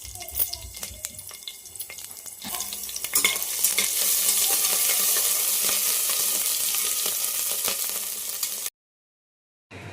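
Green chilli and ginger-garlic paste fry in hot oil, a steady close sizzle that swells louder after a few seconds, with scraping stirs, then cuts off abruptly near the end.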